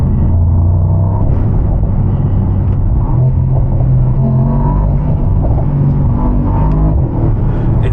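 Deep, steady V8 rumble from a Mercedes-AMG SL under acceleration, heard close from inside the car as a loud continuous drone with no talking.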